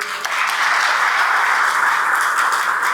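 Lecture audience at a Senac talk bursts into steady applause after a brief pause, a dense continuous wash of many hands clapping, fairly loud, with no talking over it.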